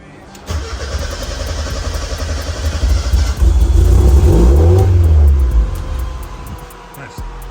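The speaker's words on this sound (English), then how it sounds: "it should at least crank over and fire for at least a second or so" A Mazda Miata engine cranks and then fires, rising to a loud, rough idle with a rev swell partway through, close by, before easing off near the end.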